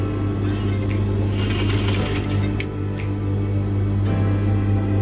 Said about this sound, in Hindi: अब ये स्टेन की साइड की सिलाई मारेंगे